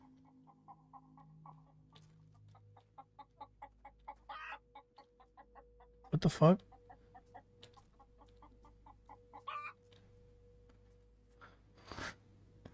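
A chicken in a video game clucks in quick, short bursts, faint and fairly steady, broken by a few louder knocks and a brief exclaimed voice.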